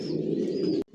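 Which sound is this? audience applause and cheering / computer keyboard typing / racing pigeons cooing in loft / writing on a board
racing pigeons cooing in loft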